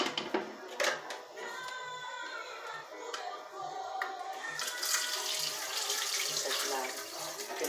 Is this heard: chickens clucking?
no